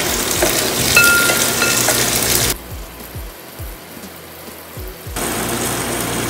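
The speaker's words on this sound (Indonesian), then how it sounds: "kita tumis saja sampai setengah matang, tapi jangan sampai gosong ya" Shallots stir-frying in a pan for sambal bawang, a loud, dense sizzle with steady stirring that drops sharply for a couple of seconds before surging back to full strength.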